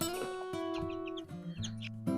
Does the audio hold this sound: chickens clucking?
yes